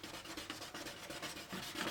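Edge of a leather axe sheath rubbed back and forth on a tabletop to burnish it, a soft continuous friction rasp with rhythmic strokes, close and quiet.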